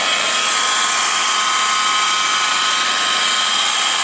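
A polishing machine lightly buffs swirl marks out of car paint, giving a steady, close, high-pitched motor whine that holds evenly from start to finish with no one talking.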